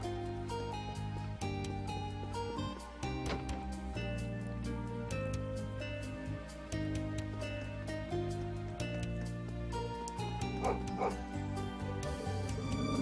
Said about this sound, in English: Poor thing's barking like crazy.